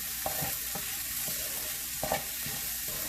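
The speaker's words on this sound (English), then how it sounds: "Give it a stir." Torn mint sprigs stirred in a frying pan of Indian cooking, with a steady sizzle throughout and a few soft spoon scrapes and knocks against the pan, nothing spoken.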